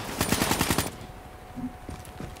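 A rapid burst of automatic gunfire in the video game Call of Duty Black Ops 3, loud and close, about a dozen quick shots in a row, then it cuts off to a quiet background.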